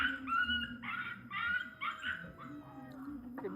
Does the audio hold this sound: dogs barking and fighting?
yes